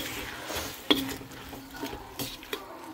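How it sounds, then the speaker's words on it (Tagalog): Garlic, tomato and onion are stirred in a hot pan, a spoon scraping and clinking against the metal with one sharp knock over a soft, faint sizzle. "nagisa na pala ako dito ng bawang at ang kamatis at saka ng sibuyas"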